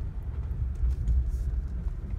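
A Nissan Murano CrossCabriolet creeps along slowly while parking near a beach, its low engine and tyre rumble steady and close throughout, with no talking.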